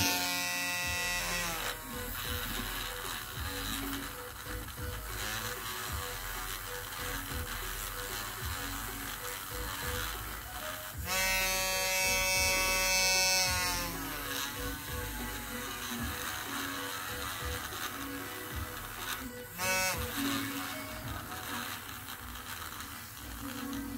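A wire brush scrapes hard against a bonsai trunk, a continuous dense buzzing rasp with occasional bursts of brighter, harsher scraping; no voices.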